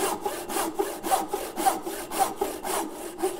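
A frame saw rips down the cheeks of a wooden tenon, its strokes rasping in a steady back-and-forth rhythm of about seven cuts, close and moderately loud with no talk.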